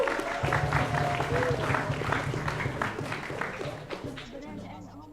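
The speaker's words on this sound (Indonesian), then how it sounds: "Tepuk tangan dulu bapak ibu." Audience applause at a school event at SMA Negeri 9 Palembang, a steady wash of clapping with crowd noise and a low musical hum underneath, fading slightly toward the end.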